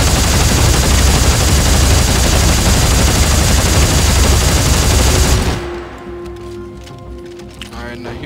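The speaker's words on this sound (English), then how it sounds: "here is the telemetry chain gun at 60 frames per second" Telemetry chain gun in Dead Space 3 firing a dense, continuous loud automatic burst for about five seconds, then cutting off to a quieter hum with faint clicks.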